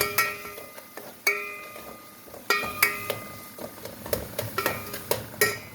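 Garlic being sautéed in a pan in a home kitchen, with sharp metallic clinks of a spatula stirring against the pan over a faint sizzle, repeated irregular scrapes and taps, close and moderately loud, no talking.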